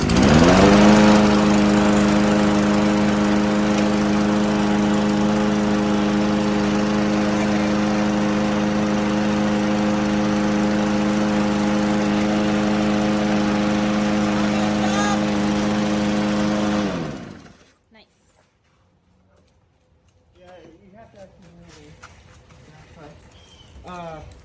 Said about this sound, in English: This is your new lawnmower.